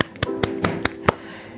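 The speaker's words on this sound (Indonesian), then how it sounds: "Tepuk tangan buat kelompok 2." Several distinct hand claps in a classroom welcoming a student group presenting on marine ecosystems, sparse and uneven slaps spaced apart over a faint steady hum.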